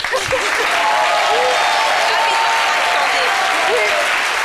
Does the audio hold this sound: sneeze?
no